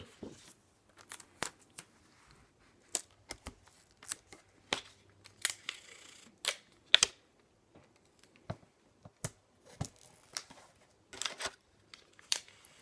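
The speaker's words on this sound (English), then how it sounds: "So then I'll just put the double-sided tape on the back of this one." Double-sided tape is peeled and pressed onto the back of scrapbook paper, producing scattered sharp ripping, crinkling and tapping bursts with quiet gaps, close and fairly faint.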